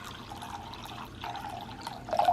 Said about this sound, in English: fill this little bowl up here with some water